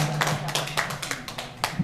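Audience clapping at a folk storytelling event, a steady patter of many hands at moderate distance over a low hum, with a few louder claps standing out near the end.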